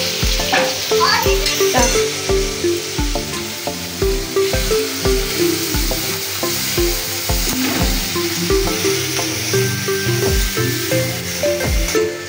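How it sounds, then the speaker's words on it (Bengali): Spices frying in a pan for vegetarian dalia, a steady sizzle broken by a rhythmic scraping and clatter of a spoon stirring throughout, close and loud with no voices. "ওদিকে মশলা ভাজা চলছে ডালিয়ার"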